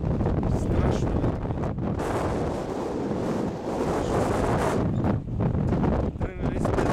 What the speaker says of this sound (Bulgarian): Много е ветровито.